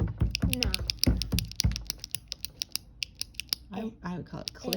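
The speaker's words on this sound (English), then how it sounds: "I would call it clicking." Rapid series of sharp, dry clicks in an irregular rhythm, close and fairly loud, with a voice talking over the first part and again near the end.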